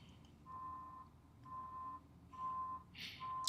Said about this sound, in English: have you been hearing beeps at all in the background for the last 45 minutes?